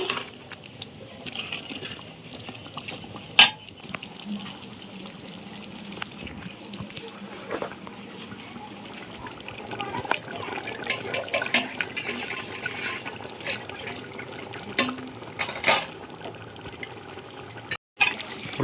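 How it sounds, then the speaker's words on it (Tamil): Water is poured into a pot for village-style homemade chicken biryani, a soft, continuous trickle and splash with occasional clinks, faint and close, with quiet talk in the background. "தண்ணி சுத்தமாக ஊற்றலாம்"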